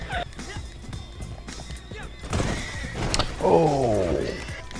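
A horse neighs loudly while being broken in within Red Dead Redemption Online, a shrill descending whinny near the end, preceded by thumping hooves, scuffling and brief voices.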